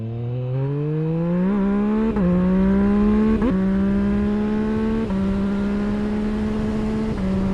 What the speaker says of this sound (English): let's wait for this Jeep to pass by